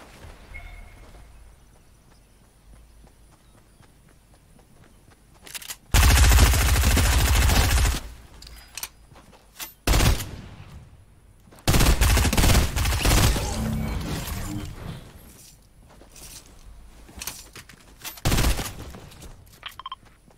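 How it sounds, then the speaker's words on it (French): Bursts of automatic gunfire in a multiplayer shooter video game, loud sustained fusillades of several seconds each separated by quieter gaps, with fainter distant shots in between. "Ça tire d'où?"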